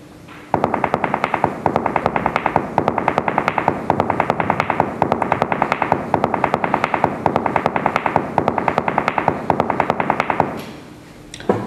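A granular synthesis texture pulses as a dense, rapid train of short sound grains of shifting timbre, steady and loud for about ten seconds before stopping abruptly.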